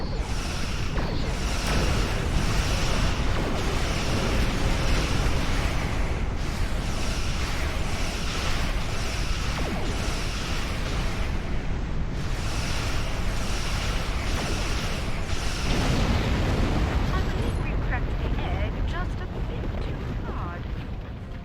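Starship weapons firing on an asteroid in Star Trek Online, a continuous roaring, rumbling blast that stays loud and dense before easing off at the end, with a voice speaking over it.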